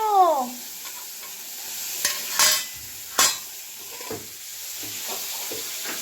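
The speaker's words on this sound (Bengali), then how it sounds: "তেলের মধ্যে জিরে শুকনো লঙ্কা ফোড়ন দিয়ে পেঁয়াজ টমেটো আদা গ্রেভ করে দিলাম" Cumin seeds and dried red chillies crackling in hot oil for a Bengali tempering, a constant soft sizzle broken by several sharp spoon scrapes and clinks against the pan.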